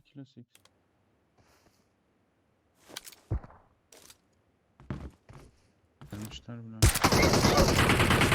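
Video game gunfire comes in sharp, scattered shots and short bursts, ending in a loud dense burst of shooting, with a voice talking briefly between the shots.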